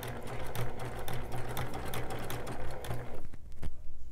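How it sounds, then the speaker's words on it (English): A sewing machine with a walking foot stitches a quilt in a fast, steady mechanical rattle, close and continuous, then slows and stops near the end. "I'm just gonna stitch right along that ditch to get to the next space that I need to be in"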